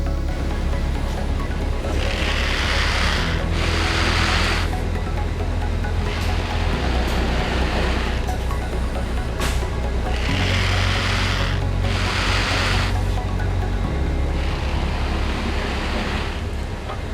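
A Kornit Storm HD6 garment printer sprays fixation layers, producing repeated bursts of hissing spray that swell and fade in pairs over a constant loud mechanical hum.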